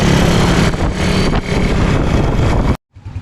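An old project motorcycle engine running rough with a Keihin Sudco flat slide carburetor, a steady loud close throbbing drone that cuts off abruptly near the end, briefly followed by faint sputtering.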